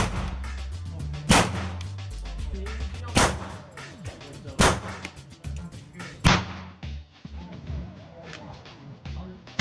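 Several loud gunshots ring out one after another at an outdoor shooting range as different guns are tested. Each sharp crack is followed by a rumbling echo, with irregular gaps between the shots.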